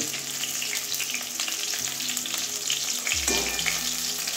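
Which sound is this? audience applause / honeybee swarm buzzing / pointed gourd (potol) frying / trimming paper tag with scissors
pointed gourd (potol) frying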